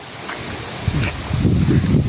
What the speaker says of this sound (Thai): แต่ว่ายังมีเสียงลมมาอยู่นะครับ